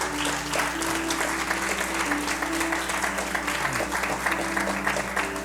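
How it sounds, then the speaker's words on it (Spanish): A church congregation applauds during a Spanish-language service, a continuous roomful of clapping over a low sustained hum and faint background tones, with no speech on top. "Dele fuerte aplauso al Señor."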